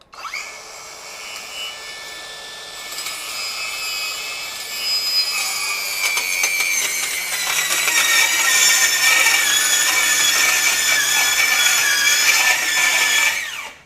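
Masterforce 20V brushless 4-1/2-inch ultra-compact circular saw cutting along a 45-degree sight line, a loud steady high whine that grows harsher partway through and bogs slightly under load before spinning down.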